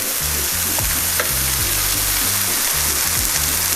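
Mushrooms sizzle and crackle steadily in hot oil on a Sencor electric grill, a bright, continuous frying hiss with faint low hum beneath.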